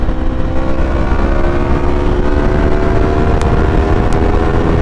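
Yamaha R3 motorcycle engine held near the top of fifth gear at speed, a loud steady drone with constant wind rush, no speech over it.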